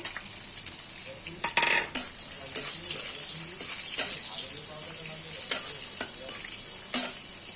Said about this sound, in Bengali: পেঁয়াজটা আমরা হালকা লাল করে ভেজে নেব